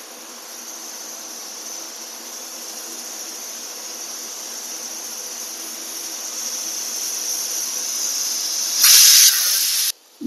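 Cumin seeds sizzle in hot oil in a pan as a steady, close hiss that swells louder toward the end, alone with no talk.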